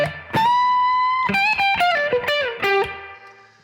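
A slow blues guitar lick rings out through a distorted tone, with a few sustained, bending notes followed by a quicker run that fades at the end, played alone.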